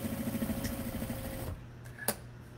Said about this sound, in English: So I'm just gonna take out my pin as I sew.